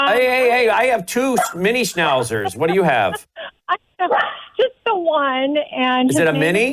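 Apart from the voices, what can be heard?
miniature schnauzer barking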